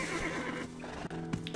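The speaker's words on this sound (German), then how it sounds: "So, kommt mein Pferd." A horse in the online game Black Desert gives a short, close whinny with a rising and falling neigh, heard alone and fairly clear.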